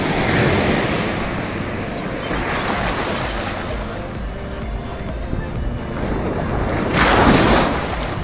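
Ocean surf at Patong Beach in Phuket washes in continuously with heavy wind buffeting the microphone, and a louder breaking wave swells near the end.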